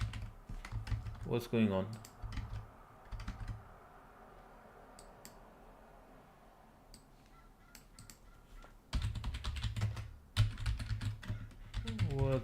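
Computer keyboard typing, bursts of close, crisp key clicks at the start and again near the end, separated by a quiet stretch, with a brief spoken question in between.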